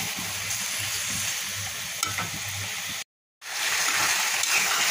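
Chicken pieces sautéing with spices in a pan, a steady close sizzle with soft stirring rumbles, broken by a brief cut of silence before the frying noise returns.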